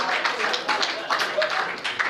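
An audience at a fundraiser claps in a brief burst of applause, a dense patter of many hands at moderate distance that holds steady for a couple of seconds.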